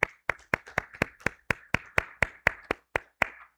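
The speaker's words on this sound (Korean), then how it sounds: "예, 우리 함께 또 한번 박수 하시겠습니다." Congregation in a church during a baptism service clapping in unison, with crisp, regular claps about four per second, close and clear with no talking.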